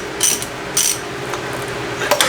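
Ratchet wrench snugging CV axle bolts in a crisscross pattern during an axle replacement, giving a few short bursts of quick ratcheting clicks close by with brief pauses between them.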